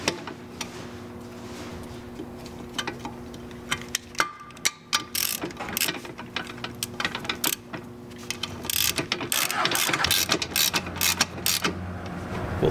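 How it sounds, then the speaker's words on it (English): Ratcheting wrench working a ball joint bolt on a BMW E39 rear wheel carrier, with quiet clicking and metallic ticks that grow denser and louder toward the end, close up, with no talking. "You can get a box wrench on that."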